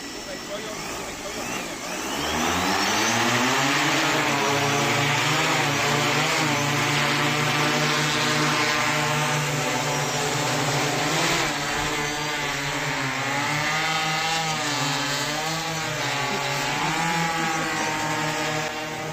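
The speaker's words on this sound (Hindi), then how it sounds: "दोस्तों, ये देखिए ड्रोन का ये शानदार प्रदर्शन है।" Agricultural drone spraying liquid urea and DAP over a tea plantation in Tezpur district, its rotors a steady loud whine that rises as it spins up and wavers in pitch, with a voice speaking over it.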